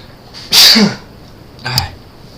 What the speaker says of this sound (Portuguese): estou espirrando e tossindo de vez em quando